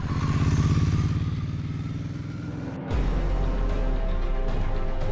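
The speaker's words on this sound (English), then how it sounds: "So I picked up a Ducati Hyperstrada. Its engine is a monster." A Ducati Hyperstrada motorcycle engine drones steadily and loudly close by, its pitch dipping briefly before the note shifts and settles into a heavier, rougher run.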